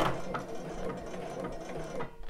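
A sewing machine stitches a bra, a close, steady rapid whirring run that briefly dips near the end.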